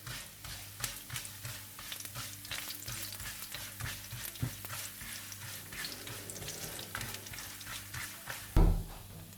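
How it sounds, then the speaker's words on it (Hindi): Mustard seeds, crushed red chilli and turmeric fry in hot oil for a tadka, a constant close crackling sizzle with rapid popping and a brief louder clatter near the end. "राई, कुटी हुई लाल मिर्च और हल्दी, और इसको थोड़ा सा भून लीजिए।"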